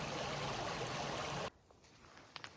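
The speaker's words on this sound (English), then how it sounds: "the sound of the water is very relaxing" Stream water rushes in a steady, broadband flow outdoors on the Appalachian Trail, loud for about a second and a half before cutting off abruptly to quiet with a few faint clicks.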